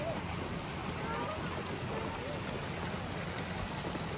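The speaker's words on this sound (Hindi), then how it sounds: "ताजमहल के सामने ये वाटरफॉल है" An artificial waterfall at a water park in front of a Taj Mahal replica pours in a steady, broadband rush, with constant wash and faint voices in the background.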